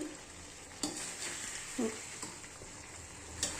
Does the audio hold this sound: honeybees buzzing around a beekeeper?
no